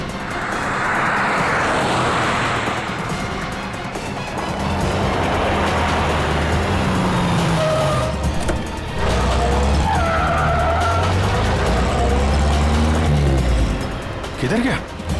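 A car skids and speeds off in a tense chase scene from the CID crime series, with tires screeching and an engine roaring under urgent shouting and overlapping voices.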